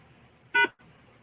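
A single short telephone keypad tone sounds while a conference call access code is entered, a brief clear beep over faint line hiss.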